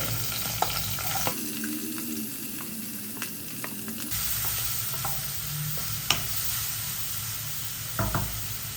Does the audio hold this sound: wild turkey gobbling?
no